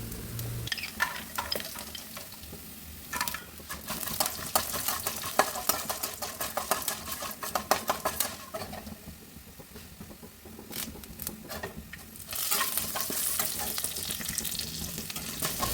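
Urad dal and other ingredients fry in a pan, sizzling with a run of scraping stirs and taps from a spoon in the middle, then a louder hissing sizzle toward the end, close and with no talk.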